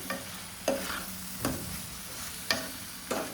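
Spoon scraping through garam masala, coriander and cumin powders in a frying pan with oil, several distinct stirring strokes over a soft steady sizzle, close and clear with no talking.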